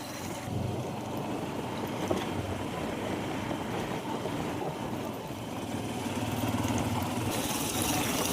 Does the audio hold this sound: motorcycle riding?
yes